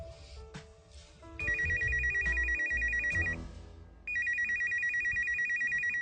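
A telephone ringtone trills in two loud repeated bursts separated by a short pause, set in a comedic domestic scene with background rustle and no talk over it.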